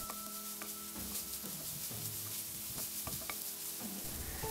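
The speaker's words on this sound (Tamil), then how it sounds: "எண்ணெய் சூடான உடனே பொடியா நறுக்கின ஒரு medium sized வெங்காயம் சேர்த்து லேசா வதக்கிக்கோங்க" Steady sizzling of a finely chopped onion frying in hot oil, with scraping stirs and light clinks of a utensil against the pan.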